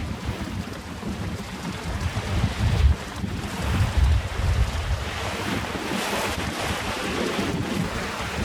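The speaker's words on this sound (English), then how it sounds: "We're having a cracking sail across here." Sailboat sailing briskly in strong wind across the Sandy Straits, with steady wind noise buffeting the microphone and waves and water rushing along the hull, close and continuous throughout.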